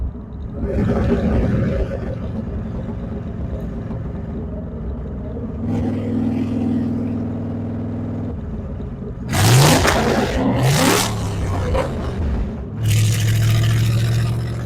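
A 1968 Corvette convertible engine idling then revving hard beneath a street overpass, deep rumbling idle broken by two loud roaring bursts of acceleration that echo, with brief pauses between.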